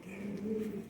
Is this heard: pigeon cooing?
yes